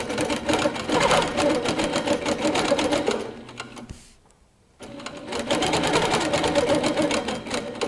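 Handi Quilter Capri stationary longarm quilting machine stitching at speed, a fast, even, mechanical needle chatter that stops for a brief pause and then starts again, close and loud.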